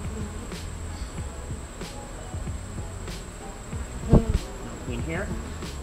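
Honey bees hum steadily around an opened beehive during an urban beekeeping inspection, a continuous close drone with faint scattered rustles and a brief knock partway through.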